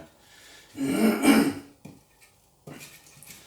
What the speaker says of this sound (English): Sorry about the coughing and spluttering.